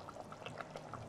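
A soft, brief pour of liquid and ingredients into a pot of chicken curry, faint and close, lasting about a second with no voices.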